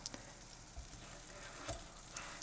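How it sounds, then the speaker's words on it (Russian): Kefir pancakes fry in oil in a skillet, a steady soft sizzle with a few faint crackles and pops, close and fairly quiet with no voices. "И с этой стороны тоже они прожаривались ровно 1 минуту"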